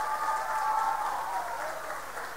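Concert audience applauding at a youth gathering in Wołczyn, a dense, steady wash of clapping from a large crowd that holds at even loudness throughout.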